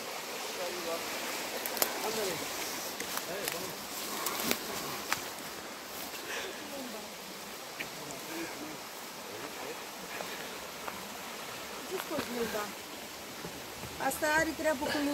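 A mineral water spring flowing outdoors, a steady broadband rush of running water heard close, with occasional clicks and handling bumps and brief bits of voice near the end.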